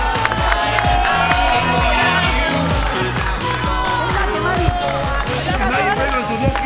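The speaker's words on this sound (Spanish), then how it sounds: "¡Fuerte el aplauso para Mavi Agustino!" A studio audience on a 2012 Argentine hair-salon talk show applauds and cheers for a guest. The sound is loud, dense clapping with crowd noise, and it runs steadily through the whole stretch with a lively backing beat underneath.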